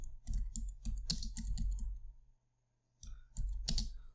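Typing on a computer keyboard, bursts of close, crisp key clicks and thumps, a pause of silence in the middle, then another short flurry of keystrokes.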